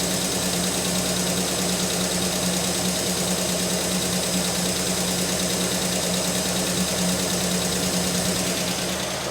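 Ford Mustang engine idling during fuel troubleshooting, a steady loud rumble with an even mechanical clatter throughout and no speech.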